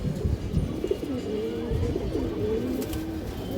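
Red-eyed black Bagha pigeons coo steadily at close range, a continuous low rolling murmur with repeated throaty phrases over a busy, noisy background, with no voices.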